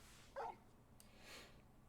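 A dog in Final Fantasy XVI gives a single short bark, clear and close, followed by quiet ambience.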